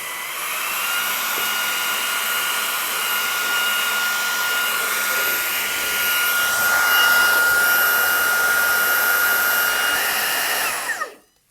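Handheld vacuum cleaner running in turbo mode, a loud steady whining roar with a high tonal whine throughout, close by and alone, cutting off abruptly at the end.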